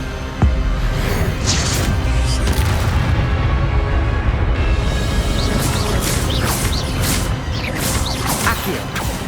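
An Expelliarmus spell is cast in the PC game Hogwarts Legacy, heard as loud booming impacts with whooshing sweeps and crashing bursts, layered over a dense, rumbling game soundscape.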